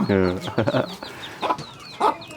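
A broody hen with her chicks clucks in a run of short, close, throaty calls with soft chick peeps between them, and no voices over them.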